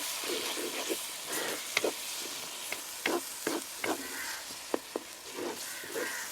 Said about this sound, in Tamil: மிளகாத்தூளையும் நல்லா கிளறி விடுங்க இந்த எண்ணெயிலேயே நல்லா கொதிக்கட்டும்